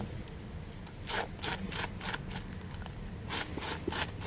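A fine steel brush scrubs an old leather shoe in quick rhythmic bursts of close, raspy strokes with short gaps between them, and no talking.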